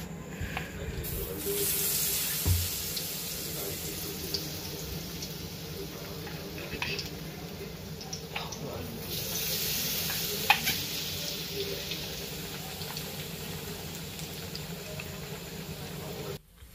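Bread pakoda pieces frying in hot oil over a medium-high flame, a steady broadband sizzle holding through the whole stretch with a few brief clinks and shifts as pieces are turned.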